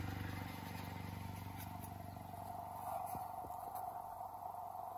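A used car's engine idles at the tailpipe, giving a steady, close exhaust drone with an even low rumble and no revving.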